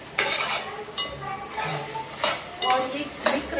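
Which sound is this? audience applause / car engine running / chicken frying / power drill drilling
chicken frying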